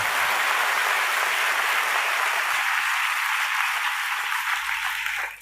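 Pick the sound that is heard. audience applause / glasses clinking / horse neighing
audience applause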